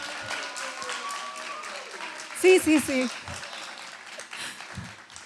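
An audience in a family talk setting breaks into applause, a soft steady patter of clapping running throughout beneath a brief spoken word and a voice rising in the middle.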